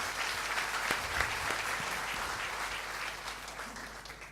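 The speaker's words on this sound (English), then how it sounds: "give a round of applause to our young ladies from the Mahabodhi School" Audience applause for young female musicians from a school at a concert event, a steady, dense crowd clapping that holds at an even level for several seconds before easing slightly.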